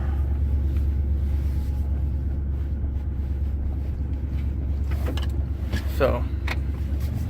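A car pulls out of a driveway on a cold day, with a steady low engine rumble throughout and a few faint higher noises near the end, while a voice speaks briefly.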